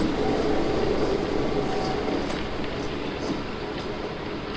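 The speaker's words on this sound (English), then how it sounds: "That's a 20-year-old Athearn GP9 and a just-purchased Bachmann GP9 working very nicely together, taking a small way freight out of West Mill." Twenty-year-old Athearn and new Bachmann GP9 HO model diesel locomotives pulling a small freight on a DC layout, a steady close motor hum and rolling wheel noise with faint rail clicks.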